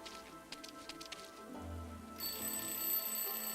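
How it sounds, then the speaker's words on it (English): Alarm clock ringing from inside a rubbish bin in the Lost Horizon adventure game, a steady electronic ring that gets louder and brighter partway through, over soft game background sounds. "он прямо в этом дворце услышит этот звонок будильника"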